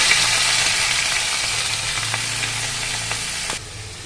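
Chopped banana stem sizzles as it fries in a pan seasoned with dried red chilli, a loud steady hiss with a few faint stirring clicks before it quickly dies down.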